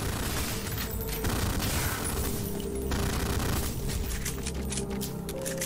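Sustained rapid gunfire from the video game Ion Fury, dense and loud bursts with booming impacts filling the whole stretch without pause, no talking over it.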